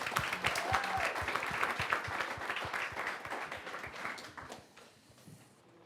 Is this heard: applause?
yes